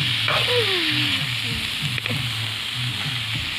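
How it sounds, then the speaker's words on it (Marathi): Spices crackle and sizzle as they are tempered in hot oil for a vegetable dish, a steady broadband hiss that runs the whole time, with faint voices and light clatter beneath it. "जस्ट फोडणी दिलेली आहे."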